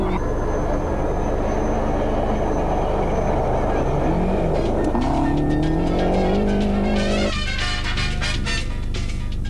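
A Ford rally car at speed on the 1992 Rally of Portugal, its engine roaring loud and steady with rising and shifting pitch throughout, under continuous commentary.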